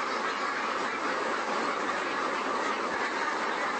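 Crowd of ducks packed inside an enclosed broiler shed, a dense, continuous wash of quacking and calling at steady loudness with no talk.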